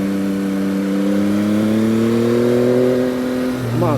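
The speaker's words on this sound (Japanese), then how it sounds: "エンジンスロットルをちょっと多めに開けてエンジン回し気味にしても" A Yamaha MT-09 motorcycle engine accelerating on a winding road, its loud, close, steady drone rising in pitch over several seconds before dipping briefly at the end, with wind noise underneath.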